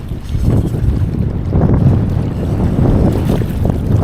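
Steady wind buffeting a microphone outdoors over open water above a big dam, a loud continuous low rumble with gusts swelling and easing.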